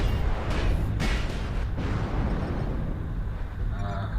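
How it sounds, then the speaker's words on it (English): A volley of missiles slams into a mech in MechWarrior Online: several heavy booming blasts in quick succession within the first two seconds, then a rumbling wash that slowly fades. "That was just one volley of missiles."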